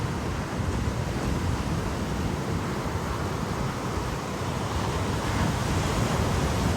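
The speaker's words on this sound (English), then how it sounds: "We got head high waves for a few days" Ocean surf at Rockaway Beach, New York, pushed by swell from Hurricane Gabrielle, with head-high waves: a continuous loud roar of breaking water mixed with wind buffeting the microphone.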